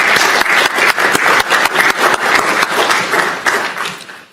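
Crowd applause at a county commissioners meeting: dense, steady clapping from many people that holds for about four seconds before tapering off at the end.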